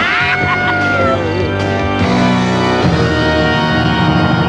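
A shrill, sustained scream from a cartoon character in the 1992 animated special Monster In My Pocket: The Big Scream. The loud, wavering cry fills the whole stretch, with no clear break.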